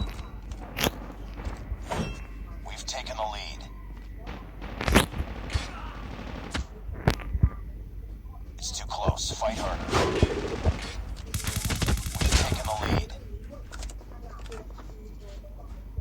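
Gunfire in a shooting video game comes in scattered sharp bursts and single shots, with a denser stretch of rapid fire near the end, under casual talk from players.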